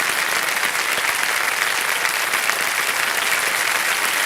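A studio audience at the KBC Hindi quiz show applauds a contestant who has just won 50 lakh rupees, with loud, dense and steady clapping throughout and no voices over it.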